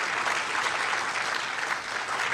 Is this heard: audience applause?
yes